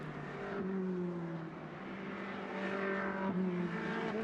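Onboard race car engine lapping Monza in a Trofeo Pirelli race, a loud steady roar with shifting pitch as it accelerates and changes gear, continuous throughout.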